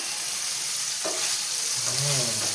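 Paneer pieces fry in hot oil in a pan for egg paneer fried rice, giving a loud, steady, close sizzle with a brief clatter of stirring partway through, and no talking.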